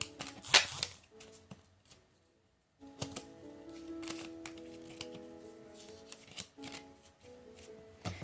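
Playing cards are shuffled and handled at close range during a card-reading session, with a sharp riffle burst early on, a short pause, then soft repeated flicks and slides.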